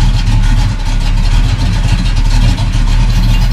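An American car engine runs loud and close, a steady throaty roar with slight rises in revs, and no one speaking.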